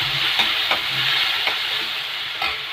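Tomatoes sizzle steadily in hot oil for lemon rice, with a spoon stirring and scraping the pan every half second or so, close and fairly loud throughout.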